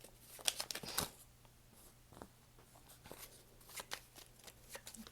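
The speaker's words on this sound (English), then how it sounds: "I'm just gonna cut that deck." A tarot deck being shuffled and cut by hand, with soft, close riffles and card slaps in irregular bursts, fairly quiet.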